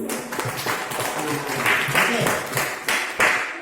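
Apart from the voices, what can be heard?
students clapping hands in class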